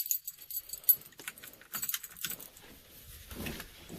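Keys jangle and clink near an RV's ignition as it is being started, a brief cluster of bright metallic rattles followed by soft handling noises, with no talking.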